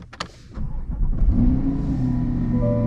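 A C8 Corvette Z51 convertible engine cranks and catches with a sharp starter burst, then settles into a steady, close low idle hum that continues to the end.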